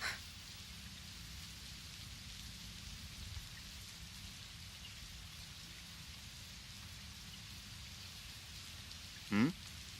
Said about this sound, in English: A very rainy day.